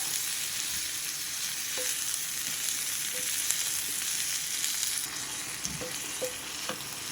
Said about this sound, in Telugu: ఇవి కూడా కొంచెం మగ్గాలి టమాటా టమాటా మగ్గటం కోసం కొంచెం ఉప్పు వేసుకుంటున్నా